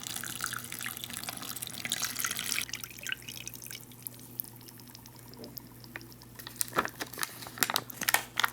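Water is poured from an MRE bottle into a drink pouch holding tropical punch powder, giving a steady trickle with drips and some crinkling of the pouch.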